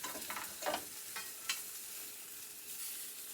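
Chicken legs fry skin side down under a press in a pan, giving a steady close sizzle with crackling spatter throughout and no voices.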